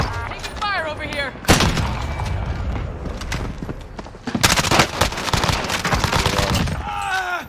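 Heavy gunfire in the Warzone battle royale game: bursts of shots and booms arrive in dense clusters, loud and close, with a player's voice talking in between.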